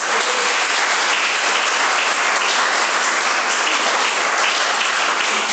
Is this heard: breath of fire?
no